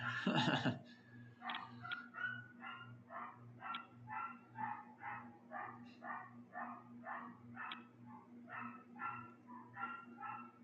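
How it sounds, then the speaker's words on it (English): A dog barks repeatedly in a steady series of short, sharp barks, somewhat distant, over a constant low hum. "Dog barking."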